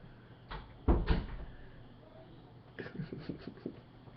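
Indoor door pushed shut with a couple of close thuds near the start, followed by lighter knocks and rattles, with a quiet room tone throughout.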